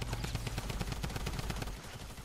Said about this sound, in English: I inevitably died to a cleaner with an SMG after I ran out of mats